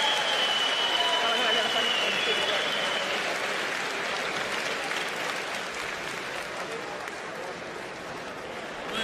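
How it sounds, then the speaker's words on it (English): A Russian MMA crowd at an M-1 Challenge event applauds the winner with sustained, dense clapping from a large arena audience, slowly easing in volume, with voices mixed in the background. "the warm ovation for the victor, Tiago Varejao"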